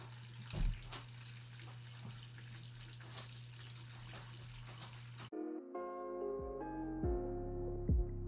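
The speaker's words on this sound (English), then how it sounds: "Give it a couple squeezes of the pump. The siphon should start." Water drains through a siphon out of a reef aquarium, giving a steady low trickle and gurgle with a constant hum beneath, followed by brighter splashing and dripping near the end.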